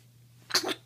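A one-month-old baby sneezes once, a short, soft burst close by against a faint steady hum in a quiet room.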